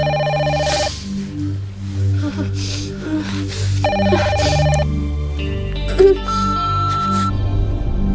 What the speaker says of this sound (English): Pick up the phone, will you?